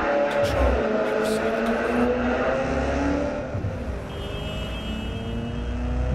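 A car engine in the video game Watch Dogs: Legion drones and revs with a whirring, tonal pitch that rises and falls, loud and continuous, with no clear speech.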